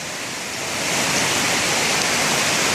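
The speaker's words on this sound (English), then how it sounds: "It's more of a stream." Mountain stream rushing through a shale-walled canyon near Battle Creek Falls in Pleasant Grove, Utah, a loud, steady broadband wash of water that swells slightly and then holds constant.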